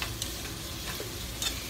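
Onions sautéing in a pan while being stirred, giving a steady, moderately faint sizzle with a few light scraping and ticking sounds from the stirring utensil over a short stretch.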